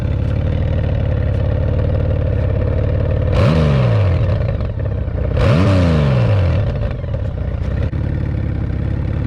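A 2014 Honda Valkyrie motorcycle engine idles steadily up close, then is blipped twice with the throttle, each rev climbing sharply and falling back to a low rumbling idle.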